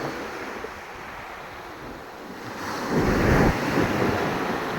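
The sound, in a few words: ocean waves on a beach with wind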